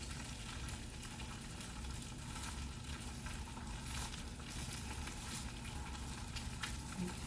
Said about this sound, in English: Sunny side up, you're just gonna let it fry in your pan.